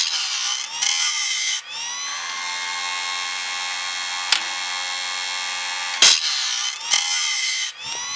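An automatic saw blade sharpener grinds a Wood-Mizer silver tip bandsaw blade with a loud, close, high-pitched grinding whine. Sharp clicks and brief pauses break it as the machine indexes through its cycle.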